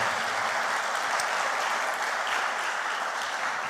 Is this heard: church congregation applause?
yes